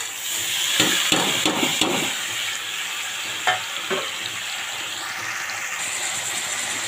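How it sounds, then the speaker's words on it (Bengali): Onion, green chilli and ginger-garlic paste fry with potatoes and tomatoes in a pan, making a constant hissing sizzle broken by a handful of quick, hard scraping knocks from stirring, with no talk. "তো পেঁয়াজ কাঁচা লঙ্কা আদা রসুনটা ভালো করে আমি ভাজবো।"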